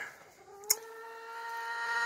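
Hens in a freezing coop on a -20 Missouri winter morning, with faint clucks and a brief sharp squawk over a low steady background of farmyard noise.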